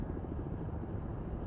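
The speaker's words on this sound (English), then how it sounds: "We have a helicopter above our head." A helicopter hovering overhead in the submarine game Cold Waters, a steady low rotor rumble with fast chopping pulses, continuous and fairly loud throughout the short moment.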